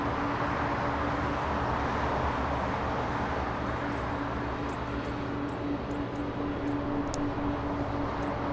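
An airliner landing at Los Angeles International Airport makes a broad, distant engine roar that holds steady throughout, with a faint hum of traffic and the airport beneath it.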